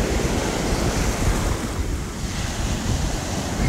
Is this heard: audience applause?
no